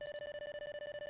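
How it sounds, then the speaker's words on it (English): A short electronic ringing tone from a detective badge in a Detective Conan video game, a steady high beep pulsing rapidly for about a second, fairly quiet. "The detective badge is ringing."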